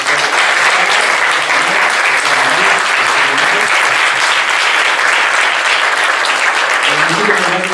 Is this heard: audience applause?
yes